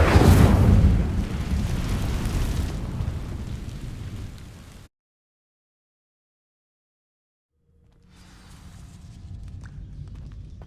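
A fire spell cast in the Hogwarts Legacy video game sets off a loud roaring burst that fades over several seconds, cuts to silence, then a low rumbling ambience returns.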